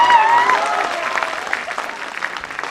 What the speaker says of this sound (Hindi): रोक कर रखना तालियां, अब तालियों को रोक कर रखना।